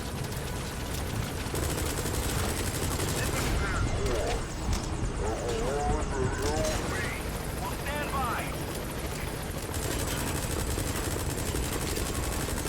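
A military helicopter in the Metal Gear Solid V game, a loud steady rotor roar filling the scene, with gunfire bursts and radio voices talking over it.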